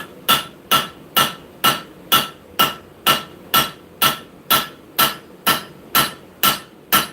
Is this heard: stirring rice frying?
no